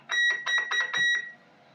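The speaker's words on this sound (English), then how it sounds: "Roger beep" A series of six short electronic beeps in quick succession from a Galaxy DX88HL CB radio roger beep, a rising chirpy tone burst, followed by a faint hiss of radio static.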